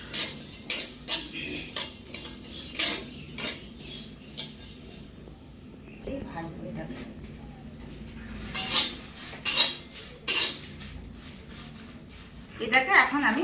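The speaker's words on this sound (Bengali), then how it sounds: "এটাও নেড়ে চেড়ে ভেজে দেবো।" Fenugreek seeds being stirred and dry-fried in a pan for a green mango pickle, quiet intermittent scrapes and metallic clinks of a spoon against the pan, with someone talking between them.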